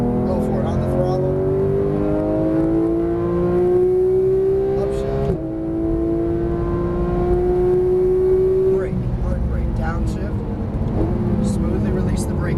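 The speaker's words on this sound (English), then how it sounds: "Go for it on the throttle." A Porsche 991 GT3 accelerates hard on a race track, its engine note climbing steadily through two long pulls with a shift between them, loud and close from inside the car with a voice speaking over it.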